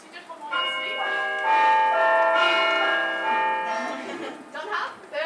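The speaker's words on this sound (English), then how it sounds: "there's the front door bell" A front door bell rings indoors, its sustained bright ringing tones filling several seconds and fading out, with a voice briefly heard near the end.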